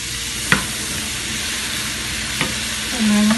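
Onion and garlic fry in a pan, giving a steady, loud sizzle with stirring clatter and a few utensil knocks, with no talking.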